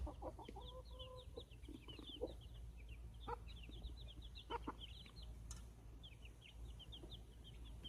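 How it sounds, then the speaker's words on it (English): Young chicks peep continuously in a brooder, a busy chorus of high, quick chirps over a low steady hum, with a few louder clucks and knocks nearby. "The chicks will be too big for this."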